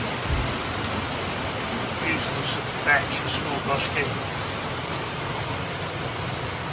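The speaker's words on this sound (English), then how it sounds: "absolutely pouring with rain" Heavy rain pours steadily at a koi farm in Japan, a dense continuous hiss of drops striking surfaces, with someone talking over it.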